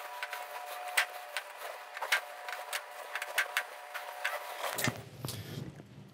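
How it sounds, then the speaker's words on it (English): A number one fine-tipped Phillips screwdriver backing screws out of a Samsung UN55JU6400F TV's main board, giving quiet, close, irregular clicks and ticks in a steady run, followed by a brief rustle at the end. "we're gonna use a number one fine-tipped Phillips head screwdriver for these"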